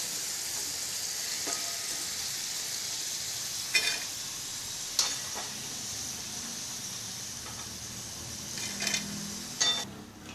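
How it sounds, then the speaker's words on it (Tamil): Okra (ladies finger) frying in hot oil in a home kitchen gives a steady, close sizzling hiss throughout, with a few sharp pops and light clinks scattered across it. "பாருங்க, நல்லா பொரிஞ்செடுத்து கோல்டன் கலர்ல மெட்டலாம்."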